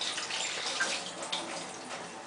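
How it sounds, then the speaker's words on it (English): Hands rinsed under a running kitchen tap, a steady close hiss of flowing water with a few faint splashes, heard alone without talk. "Let me just rinse my hands"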